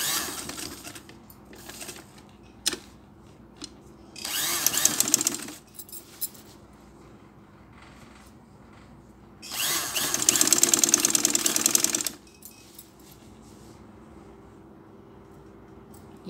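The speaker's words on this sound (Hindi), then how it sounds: "सिलाई के ऊपर हमने ये कपड़ा रख कर सिलाई कर रहे हैं इसके ऊपर" A sewing machine stitches cloth for a doctor's coat in two distinct bursts of whirring, separated by quieter stretches of light handling noise, moderately loud and near.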